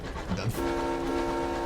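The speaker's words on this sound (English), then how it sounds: "That's the train horn." A steady tonal train horn in the video game Sunless Skies sounds after a few brief clicks, holding a sustained chord-like blare until the end.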